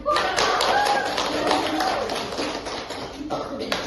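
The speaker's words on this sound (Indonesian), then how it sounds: "tepuk tangan untuk Rianti" Applause from a classroom of students for a classmate during a poetry lesson, a short burst of scattered hand claps that carries on steadily for a few seconds.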